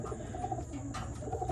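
Racing pigeons cooing inside a loft, a continuous soft low warbling from several birds close by, with faint chirps over a steady background hum.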